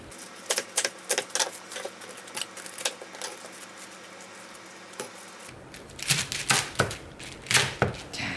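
A knife chopping napa cabbage on a cutting board for summer geotjeori kimchi, a run of sharp rhythmic taps, briefly sparser, then a faster cluster of close, crisp cuts.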